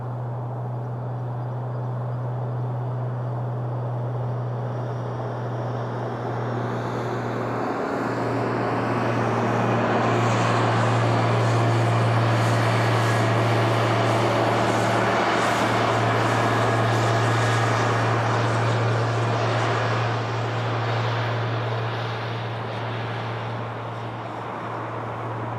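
A passenger airliner landing at Toronto Pearson Airport on a cold winter day, a steady broad roar of jet engines rising and swelling mid-clip as the plane passes close, then easing off, with a constant low hum underneath.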